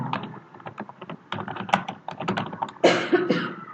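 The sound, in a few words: typing on computer keyboard while writing code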